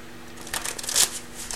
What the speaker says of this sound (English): Let's get some additional cards.